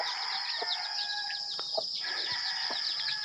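Pet chickens on a farm in the Philippines cluck and chirp during feeding, several birds close by over a steady high background hum, with short scattered calls and no talk.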